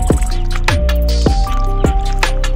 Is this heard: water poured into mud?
yes